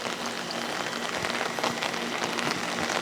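Rain pours steadily onto a surface near a backyard chicken coop, a dense, close patter with a low constant hum underneath and no voices.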